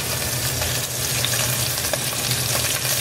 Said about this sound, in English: heating up, having some oil. There we go, it's hot. And what we're going to do is browning the piece of fish.